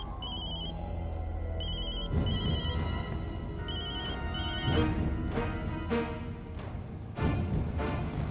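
Telephone ringtone chiming in repeated bursts over a steady room background, fairly loud and close, with no talking.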